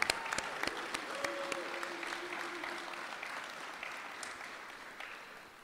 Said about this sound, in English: All right, one more round of applause for Abe Chavez.